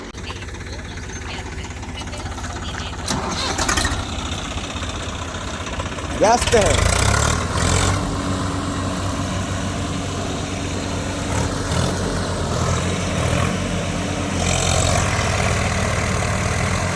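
A Swaraj 744 FE 4WD tractor with a rotavator behind runs its engine while stuck in deep mud, a steady rumbling drone that swells louder around the middle, with people talking over it throughout.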